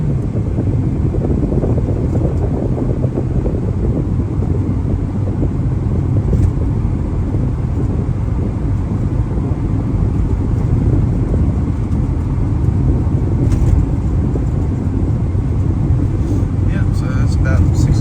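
A 1996 Honda Orthia GX-S with all-wheel drive and a B20B engine, accelerating on the road, heard from inside as a steady, loud broadband rumble mixed with wind and road noise that continues without a break.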